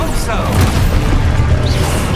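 Expulso explosion spell going off in Hogwarts Legacy combat, a booming burst amid a dense, busy mix of effects, with a voice calling out spells.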